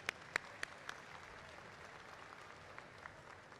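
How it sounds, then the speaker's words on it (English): Faint applause from a commencement audience honouring graduates' families, a soft distant patter of clapping with a few sharper isolated claps near the start. "Another applause for our families, please."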